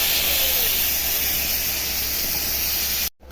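A ginger, cumin and chilli spice paste hits hot oil in a kadai with dried red chillies and nigella seeds, giving a loud, close, sustained steamy hiss that cuts off abruptly near the end.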